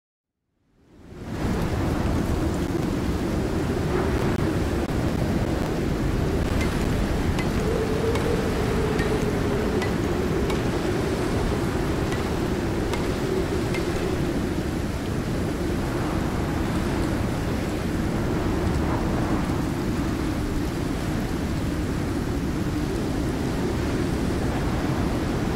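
A howling storm in the Icarus game rushes continuously with heavy wind and deep rumbling thunder, loud and unbroken from start to finish after a brief silent opening.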